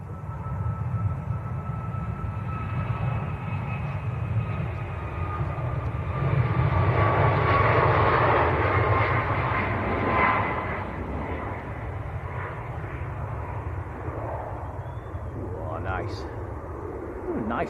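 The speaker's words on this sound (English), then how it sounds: "Here comes the Ryanair." A Ryanair airliner at Leeds Bradford Airport, seen from behind the fence near the runway lining-up point, gives off a broad engine roar that swells in the middle and then eases, with a faint whine, at moderate distance.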